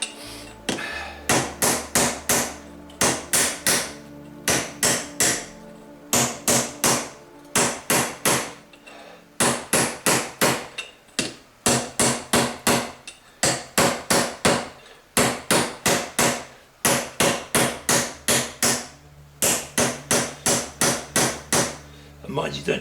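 An exhaust pipe hammered on an anvil to form a baffle: bursts of loud, sharp metallic blows in quick rhythmic runs, with brief pauses between groups, close and alone.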